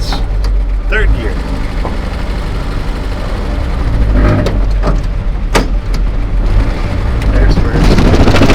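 A 1941 Chevy Coupe project car pulls away off dirt, its engine loud and rumbling close by the whole time as the driver works through the gears, with a voice speaking over it.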